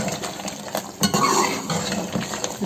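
A spoon scrapes and clinks steadily in a pot while crushed onions are mixed into chicken qorma, with a soft sizzle underneath and no talking.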